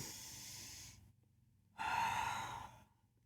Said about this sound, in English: So taking a deep breath.